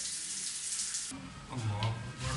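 Shower water running in a home in Egypt, a steady hiss of spray that shifts to a fuller splashing flow with low gurgles halfway through, close and continuous.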